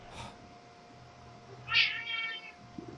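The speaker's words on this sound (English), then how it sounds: "that's my cat you've just heard" Pet cat giving a single loud, angry meow, close by and rising sharply in the middle of an otherwise quiet room.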